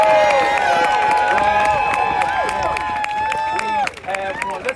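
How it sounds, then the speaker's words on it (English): A political rally crowd cheers and shouts in a loud, sustained roar of many voices, with clapping mixed underneath, before the noise briefly dips near the end. "give yourselves a big round of applause"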